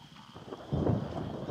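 A thunderstorm rolls over grasslands in Zambia's Luangwa Valley, with a low rumble of thunder swelling after a quiet start, heavy and close, over a faint wash of rain.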